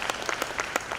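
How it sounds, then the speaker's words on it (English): Workshop audience applause for youth participants at a supply chain management event, a brief burst of scattered clapping from a modest crowd, fairly close and even throughout. "let's give them a round of applause"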